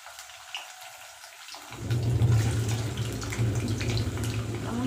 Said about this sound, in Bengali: তেল গরম হয়ে গেছে, আমি এবার একটু পনিরগুলো ভেজে নেব।